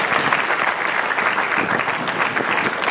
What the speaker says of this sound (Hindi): अगर बराबर है तो जोरदार तालियां प्लीज।